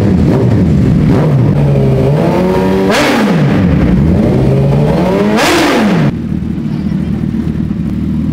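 Motorbike engines rev hard at a drag race at the MMRT track in Chennai, loud rising and falling whines climbing through the gears in two sharp bursts, then a steady idle rumble, with someone talking over the noise.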